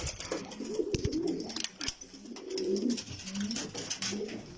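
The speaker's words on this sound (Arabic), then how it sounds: "انا اصعد لفوق لهاي الطيور" Pigeons in a loft coo softly and repeatedly, their low throaty calls rising and falling in overlapping phrases, fairly close with light rustling and no talk.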